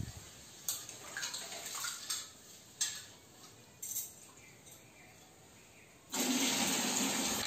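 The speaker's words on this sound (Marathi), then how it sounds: "असे याला चांगले 2-3 वेळा स्वच्छ धुवून घ्यायचे तांदूळ।" Rice grains being washed by hand in water, swished and rinsed two or three times with intermittent splashing bursts and a louder pour of water near the end, close and alone.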